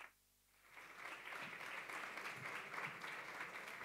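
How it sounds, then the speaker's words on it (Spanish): Sustained audience applause at a conference on gender-based violence in digital environments and video games, rising after a brief quiet start into steady clapping from a sizable crowd. "Un fuerte aplaudiment."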